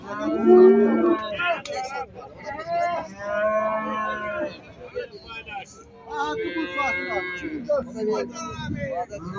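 Calves and cattle at a livestock market in Ganja moo repeatedly and close by, with long drawn-out calls, and people talk nearby.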